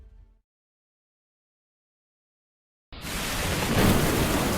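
Heavy rain hits hard after a long silence, a dense loud roar with a deeper rumble swelling near the end that suggests thunder, no voices.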